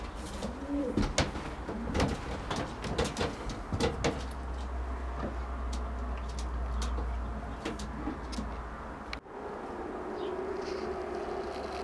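A Jan Aarden racing pigeon hen coos in a loft, soft repeated rounded calls near the microphone, interspersed with sharp clicks and knocks from handling and a low steady hum underneath.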